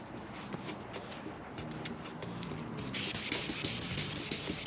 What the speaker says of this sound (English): surface damp and sand until all the yellow goes away